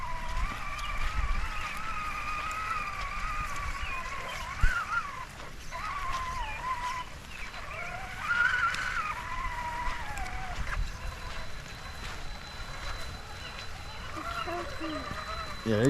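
A Traxxas Summit brushless RC truck whines through mud in the rain, its motor pitch rising and falling with the throttle at moderate distance, while voices talk intermittently over it.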